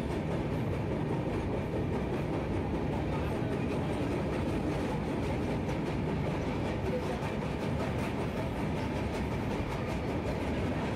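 A train speeds across a bridge over the Godavari river, producing a loud, steady rumble and rattle of wheels and carriages that continues without a break.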